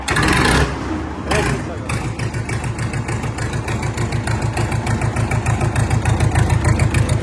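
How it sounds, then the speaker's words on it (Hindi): A Swaraj 855 or RX 60 tractor engine runs close by with a rapid, steady chugging throb that grows slightly louder. A voice speaks briefly near the start. "दोनों ट्रैक्टर की आवाज खतरनाक है"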